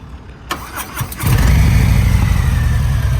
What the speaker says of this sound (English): you gotta start the bike